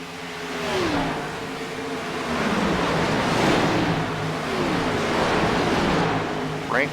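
Race cars roar into turn one at a short-track oval, several engines blending into a loud, steady rumble with passing pitch sweeps and wind-buffeted noise throughout.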